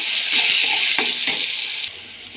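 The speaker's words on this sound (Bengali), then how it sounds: "এরপর আমি দিয়ে দিচ্ছি সিম বাটাটা, নেড়ে চেড়ে নেব।" Bean paste sizzling and being stirred in hot oil with nigella seeds, a steady broadband fry with a few scraping stir strokes, close and alone with no talk.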